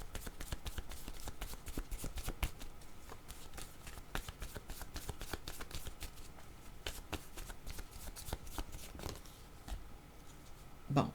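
A deck of cards is shuffled close by for a card reading. Dense, rapid riffling clicks continue steadily for about ten seconds with no voice over them.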